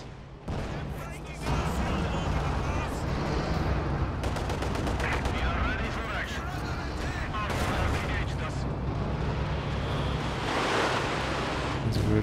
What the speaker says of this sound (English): And the Raketen connects long range.